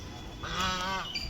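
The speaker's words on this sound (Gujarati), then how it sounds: "બધી બતક બતાવું મસ્ત મજાની બતકો બધી જો ગાઈસ પાણીની અંદર બતકો જુઓ કેટલી બધી બતકો." Ducks quacking on and around water, a burst of harmonic calls rising over a steady ambient background for about half a second before fading.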